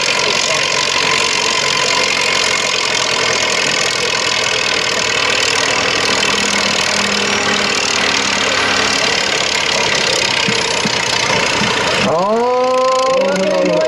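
A pulling tractor's engine roars loud and steady at a tractor pull in New Vienna, Iowa, then winds down near the end. A voice is heard over the din.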